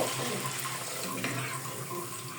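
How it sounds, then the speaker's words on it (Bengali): Water poured from a tap or jug into a pan of curry for hilsa fish bhuna, a steady close splashing stream running throughout with no talk. "আমি এখন ঝোলের জন্য একটু পানি দিয়ে দিব"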